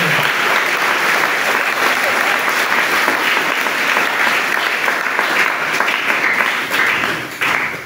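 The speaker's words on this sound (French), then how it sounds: "Acclamons très fort pour le Seigneur" A congregation at a Catholic Mass applauds loudly and continuously, a dense wash of clapping from many hands that fades slightly at the end.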